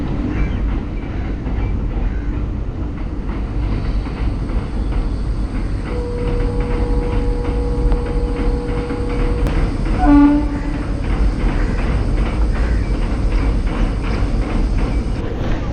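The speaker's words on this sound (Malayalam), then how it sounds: "അപ്പോൾ അതേ അടുത്ത ട്രെയിൻ പോകും." A train crosses a railway bridge over the Aluva river in Kerala with a loud, continuous rolling rumble and rhythmic wheel clatter, a horn-like tone sounding briefly midway, and no talking.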